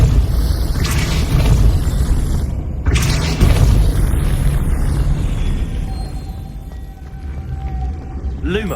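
Deep booming blasts of the Depulso spell in Hogwarts Legacy, two loud thumps a couple of seconds apart over a rumbling bed, with a voice speaking.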